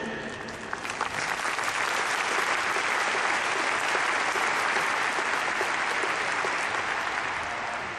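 Large stadium crowd applauding steadily at a football player's retirement-match ceremony, a dense, loud, continuous wash of clapping from start to finish with no speech over it.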